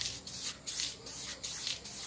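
A spray gun lays down a coat of Diton Premium paint in four or five short, hissing bursts separated by brief pauses, close and fairly quiet.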